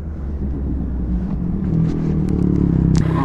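A loud, noisy motorcycle engine rumbles up close with a low, steady drone that swells a little louder toward the end, joined by a few brief higher scrapes or clicks.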